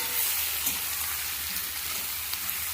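Tomato and spices with turmeric sizzle and fry in a pan, a dense steady crackling hiss with occasional small pops, close and continuous, no voices.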